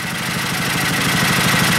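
A John Deere 56 tractor engine with a newly swapped throttle linkage and carburetor runs steadily, a close, even rhythmic chugging with no pauses.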